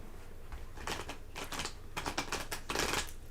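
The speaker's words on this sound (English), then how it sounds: "I think I shuffle first." Tarot cards being shuffled during a live tarot reading session, a run of quick papery riffling bursts and soft slaps close by, with no talk over them.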